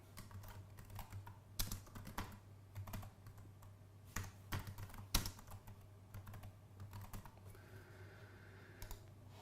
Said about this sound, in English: And now we can write our message to whoever we're talking to